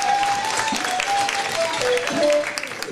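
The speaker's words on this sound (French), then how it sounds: "Eh bien, il faut l'applaudir." Steady applause from a crowd at a Women's Day event, dense clapping throughout with a faint tone running underneath.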